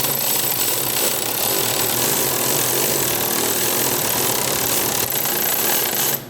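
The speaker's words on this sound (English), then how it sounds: "you gotta do it with the electric ratchet" Electric ratchet whirring steadily as it spins a car engine's oil pump during an oil change, a loud continuous buzzing grind that runs without pause until cutting off at the very end.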